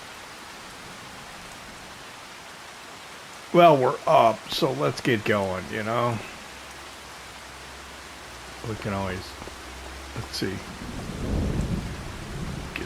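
Steady rain pours and thunder rumbles in a Farming Simulator 25 farm scene on PS5, a constant hiss with low rolls, while someone talks over it.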